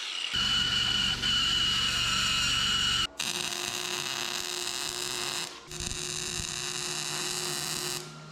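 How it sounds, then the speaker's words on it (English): A carbide burr slots out a bolt hole in a metal bracket during work on a 1976 GMC truck, giving a steady, close, high-pitched grinding whine that breaks off briefly twice before resuming. "I'd take the carbide and slot that out where that bolt would fit through there nicely"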